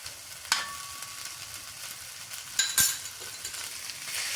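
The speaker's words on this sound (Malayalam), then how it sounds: "എല്ലാം കൂടെ ചേർത്ത് നന്നായിട്ട് വഴറ്റിയെടുക്കും" Yam, plantain and dates sauté in a pan with a steady soft sizzle, broken by a few sharp clinks and scrapes from stirring, close by and with no speech.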